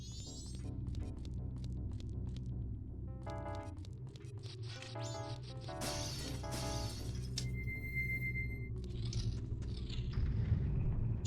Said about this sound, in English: Shing, shing, shing, the sound of my, giant fucking sword hitting all the switches